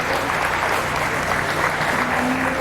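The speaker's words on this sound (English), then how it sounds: "Let's give all these dairy steer exhibitors a big round of applause for today." A crowd at a county fair dairy steer show applauds the exhibitors, steady dense clapping close by that continues evenly from start to finish.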